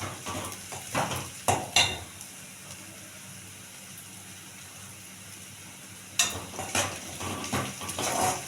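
Fennel seeds sautéing in a pan, heard as close bursts of stirring and scraping against the metal pan over a low sizzle, with a quiet gap in the middle before the stirring starts again.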